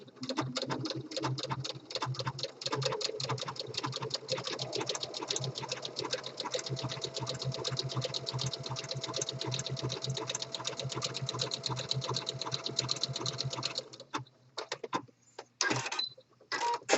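A home sewing machine runs steadily, edge stitching fleece fabric about 1/16 inch from the raw edge, with a dense rapid needle rhythm up close for about fourteen seconds before it stops and gives way to a few scattered clicks and handling noises.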